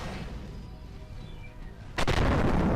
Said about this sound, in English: We're using artillery right now.